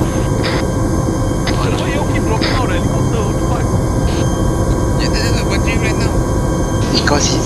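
Helicopter in the military video game ArmA, a loud, steady rotor and turbine roar that fills the whole stretch, with voices talking over it.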